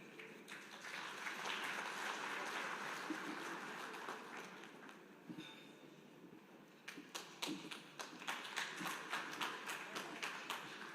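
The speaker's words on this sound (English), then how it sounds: "A round of applause, ladies and gentlemen, for Honorable Chadzamela." Audience applause at a rural industrialisation and economic empowerment indaba, swelling into sustained clapping from a sizable crowd, then thinning into scattered, sharper individual claps toward the end.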